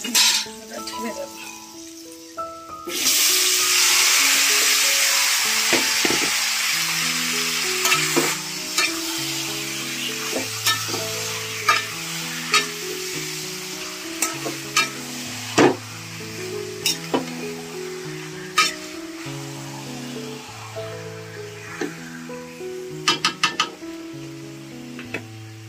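Marinated chicken hitting fried, browned onions in a hot pan, a sudden loud sizzle that settles into steady frying, with scraping stirs and clinks of a utensil against the pan throughout.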